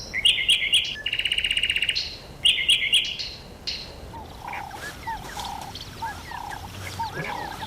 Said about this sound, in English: All birdsong contains a hostile undertone.